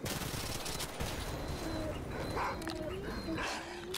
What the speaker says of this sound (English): Dude, why do I hear so many dogs?